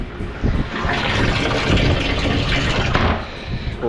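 Water runs from a garden hose with low pressure, giving a steady hissing, splashing rush, near and fairly loud, with no talk.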